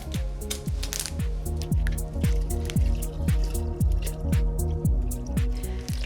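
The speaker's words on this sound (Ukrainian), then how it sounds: "І все це просто заливає водою." Water being poured into a jug holding sliced cucumber and lemon, a steady gurgling pour with repeated glugging pulses and rising pitch as the jug fills.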